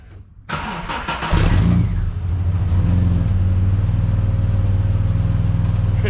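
A drift car's engine cranks and fires with a new exhaust system fitted, then settles into a loud, steady, throbbing idle close by, with no talking.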